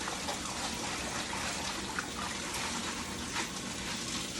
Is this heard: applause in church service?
no